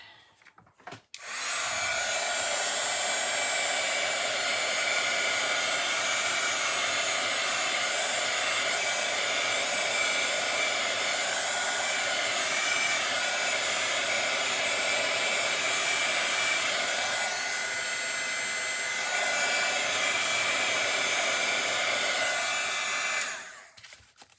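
A hair dryer blows on pink craft paint, a loud steady whir that starts abruptly after a click, holds evenly for about twenty seconds with slight shifts as it moves, then cuts off.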